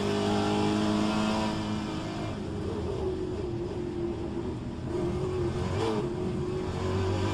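Trans-Am race car in rFactor 2 holding part throttle, its engine note a steady, loud, continuous drone with slight pitch wavering and no one talking.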